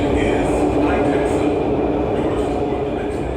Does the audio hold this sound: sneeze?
no